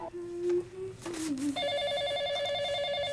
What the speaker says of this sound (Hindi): ये फोन बेवक्त क्यों बजता है?